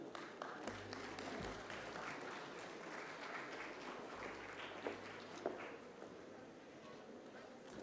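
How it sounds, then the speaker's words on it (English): Audience applause at a sustainability-themed conference on media and design, a sustained round of clapping from a seated crowd lasting several seconds at steady, moderate volume with a few sharper claps standing out. "A huge round of applause for Vandana ma'am, everyone."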